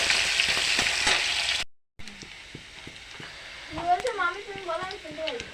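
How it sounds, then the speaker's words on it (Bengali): Chopped onion sizzles in hot oil in a wok, a steady close frying hiss broken by a brief cut, then softer crackling with stirring, while someone speaks over it. "তার জন্য কড়াইতে একটা বড় সাইজের পেঁয়াজ কুচি"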